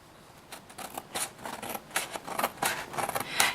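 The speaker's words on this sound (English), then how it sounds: "So then you're just going to turn it over and cut off the excess." Scissors snip off excess paper on an envelope-style box in a quick series of short, crisp cuts, close up and growing slightly louder toward the end.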